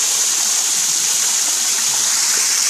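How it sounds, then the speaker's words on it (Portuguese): A small spring-fed stream flows toward a river in a well-preserved natural setting. Its steady, bright rushing and gurgling stays close and constant throughout, with no talking. "é uma pequena nascente de água que irá desembocar dentro do rio abaixo"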